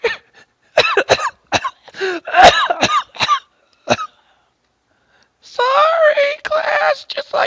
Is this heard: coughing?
yes